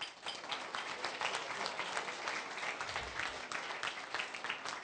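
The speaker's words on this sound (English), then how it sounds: "So one more round of applause for Omar." Audience at a keynote and awards night applauds steadily, a dense, sustained clapping that fills the whole stretch at an even level without letting up.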